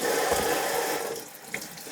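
Tap water runs steadily into a colander of peeled cucumbers in a kitchen sink, a continuous close splashing rush with a brief clink near the end and no talking.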